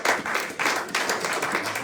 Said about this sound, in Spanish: Déle un aplauso al Señor